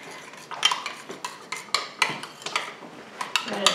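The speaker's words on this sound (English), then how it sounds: "We'll stir it up a little more." A spoon stirs leftover mashed potato mixture seasoned with salt and pepper in a bowl, giving a run of close, sharp clinks and soft scrapes in an uneven rhythm with no talk.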